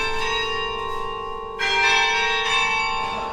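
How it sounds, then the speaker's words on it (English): Church bells ring out in a cold, windy outdoor spot, a steady sustained peal with a second louder burst of strikes joining partway through, no talking. "And we heard the bells ring."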